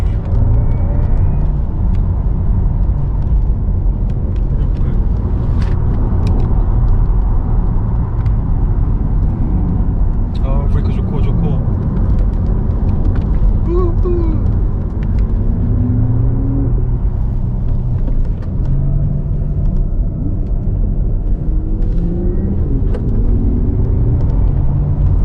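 An electric Porsche Taycan Turbo S sports car drives steadily with a continuous low road rumble and wind roar, its faint motor whine rising and falling as it overtakes a group, close and loud throughout.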